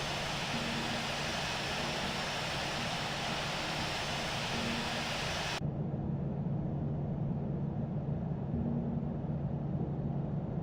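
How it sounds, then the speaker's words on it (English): An airliner taxiing in the Infinite Flight video game, Calgary to Vancouver, gives a steady, loud engine drone and hum with no talk, its tone turning duller and muffled partway through. "Taxiing to runway 8."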